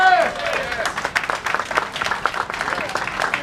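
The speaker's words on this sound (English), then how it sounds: "Let's give him a round of applause." Audience applause honoring an inductee at the 2025 Philly Music Walk of Fame ceremony, a steady wash of clapping from a crowd lasting a few seconds, with a brief voice at the start.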